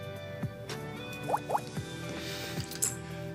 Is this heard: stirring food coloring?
yes